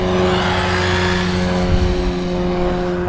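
An ARRMA Typhon Grom RC car with a Castle Micro Mamba X2 motor system runs steadily, giving a high, sustained electric whine with a little rise and fall in pitch.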